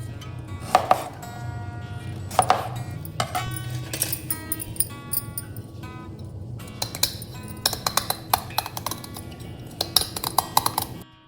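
Vegetables such as pointed gourd being cut for basmati pulao in a kitchen, with repeated clinks and knife taps on a board and dishes, set irregularly over a low steady hum, with no speech.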